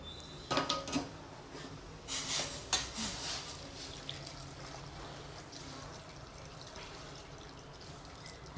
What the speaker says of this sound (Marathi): आता मी ह्यामध्ये गरम पाणी करते ते घालून घेते